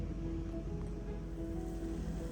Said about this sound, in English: Our water has come to a rapid boil